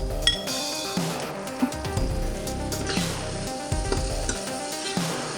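Green chillies and onion sautéing in a pan, with a close, steady sizzle broken by repeated scrapes and clinks of a spoon stirring against the pan.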